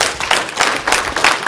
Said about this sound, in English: Let's stand and give the Lord a hand clap of praise tonight.